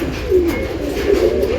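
Pigeons coo in a new flying loft where breeding pairs are raising squabs and sitting on eggs; two low, throaty coo phrases roll out close and clear, with no voices.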